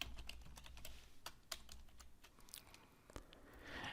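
Quiet, close typing on a computer keyboard while code is entered, with irregular bursts of sharp key clicks and taps, no talking.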